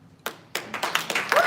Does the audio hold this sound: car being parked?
no